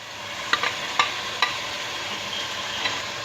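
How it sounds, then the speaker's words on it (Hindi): Tomatoes hit hot oil for keema shimla mirch, raising a steady, close sizzling hiss, with a few sharp clinks of a spoon against the pan. "अब हम इसमें ऐड करने लगे हैं टमाटर"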